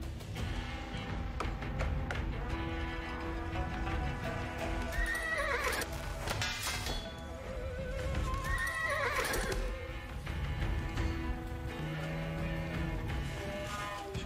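Horses neigh and whinny amid steady hoofbeats and clattering battle noise in Age of Empires 4, playing as the Mongols; two prominent neighs rise above the dense, continuous game soundscape.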